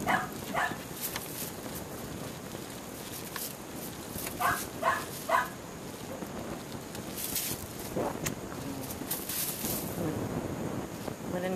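A dog barks in short spaced bursts, a few sharp yaps in a cluster midway and more later, over steady outdoor wind noise, with faint voices nearby.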